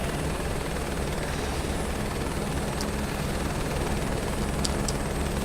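Helicopter engine in Microsoft Flight Simulator 2024, a steady whirring rotor drone with a constant low hum throughout, fairly loud and unbroken with no talking.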